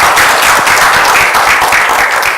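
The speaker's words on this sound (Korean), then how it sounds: "큰 박수 부탁드립니다." Loud, close audience applause greets a lecturer before a Nobel Prize in physiology or medicine commentary talk at KAIST, with rapid overlapping claps and no speech.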